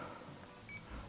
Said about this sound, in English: I like that they beep, but I will probably turn that off.